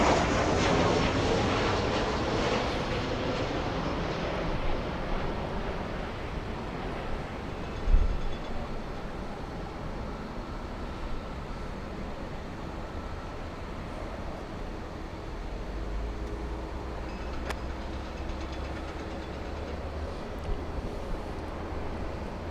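A plane taking off at Los Angeles International Airport gives a sustained, broad jet engine roar that stays loud and steady for over twenty seconds, with a deeper rumble building near the end.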